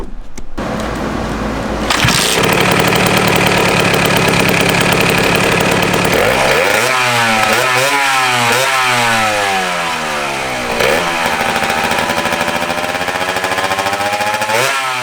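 A Honda MB5 two-stroke moped from the 1980s, its engine running loud and close, first idling with a buzzy rattle, then revving repeatedly in rising and falling whines.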